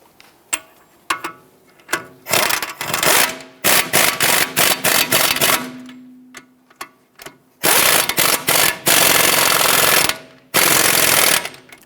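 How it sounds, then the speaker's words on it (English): Power impact tool driving the two nuts onto the front strut bolts of a 2011-2019 Ford Explorer, loud rapid hammering bursts in irregular spurts separated by short gaps, close by. "Let's get the two nuts installed on the strut bolts."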